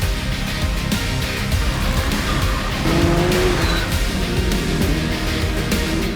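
Race cars in the Driver B races at the Indian Racing Festival, with engines roaring steadily and loudly throughout and brief tire squeals mixed into the continuous track noise.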